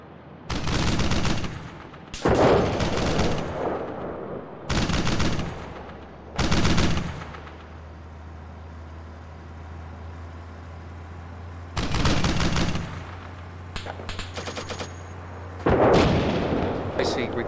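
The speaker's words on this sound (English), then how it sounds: "recoilless rifle." Several loud, sharp weapon blasts from a recoilless rifle in the tank simulator Steel Beasts, fired in separate bursts with long decaying tails. A low steady engine drone fills the gaps, and voices speak between the shots.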